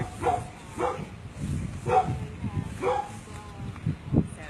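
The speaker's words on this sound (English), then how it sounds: "Dog is barking." A brown and white pit mix dog barks repeatedly in short, uneven bursts, fairly close and loud, with rustling and background noise between the barks.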